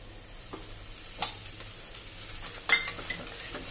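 Crushed dry fruits get stirred into hot, thickened jaggery syrup, a soft bubbling sizzle broken by a few sharp scrapes and knocks of a spoon against the pan.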